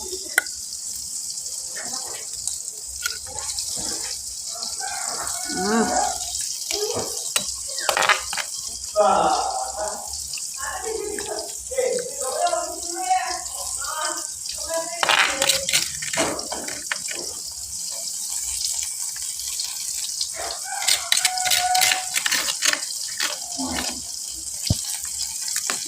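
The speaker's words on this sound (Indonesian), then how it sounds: "Ini balur dan pindang digoreng, pemirsa." Pindang and balur fish fry in a pan for an Indonesian home meal, giving a steady broad sizzle throughout with scattered pops, clinks and stirring, while a person talks intermittently over it.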